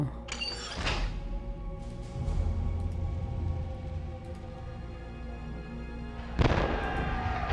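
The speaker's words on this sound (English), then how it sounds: "we have loaded the cannon" Cannon being loaded in the puzzle adventure game Zork Nemesis, two sharp metallic clanks at the start and end bracketing a low creaking mechanical rumble, fairly close and without speech.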